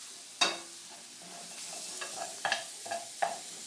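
Chorizo cooking in a covered pan for breakfast burritos gives a soft, steady sizzle, broken by a few sharper clicks and scrapes of stirring, fairly quiet and with no voices.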